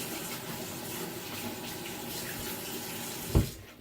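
Tap water runs steadily into a sink in a home chemistry lab, a constant splashing hiss that stops with a short clunk near the end.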